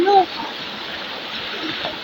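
Steady broadband rush of water flowing, like a stream or small cascade, with a brief tonal chirp at the start.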